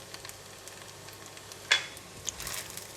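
Spring onions go into a pan of prawn fried rice just after the heat is switched off, giving a soft continuous sizzle with a quick stirring scrape and a brief rustling toss near the end.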